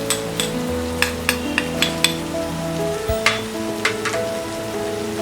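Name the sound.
spices and sprouts being mixed and fried on low flame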